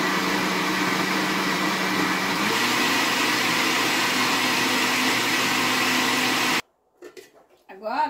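A blender runs steadily on mango pulp mixed with water for juice, a loud continuous whir lasting about six and a half seconds before cutting off abruptly, followed by faint handling noises.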